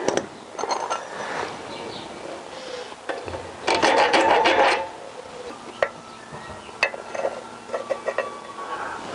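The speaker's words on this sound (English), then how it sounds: "then we've got to try and file that side." Hand file rasping against a metal chassis pin on a Honda CBR1000F motorcycle being stripped down, heard as short bursts of scraping strokes, one longer run in the middle, close and fairly loud in a quiet workshop.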